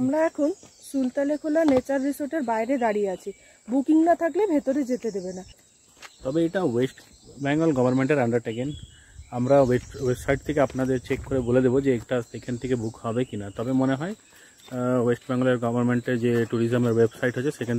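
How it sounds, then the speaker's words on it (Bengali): Crickets at Sultanekhola nature resort in the Dooars, North Bengal, give a steady, thin, high-pitched trill throughout, running quietly beneath someone talking continuously in the foreground. "পাখির ঝিঝি পোকার ডাক এখানে বসে শুনতে পাই"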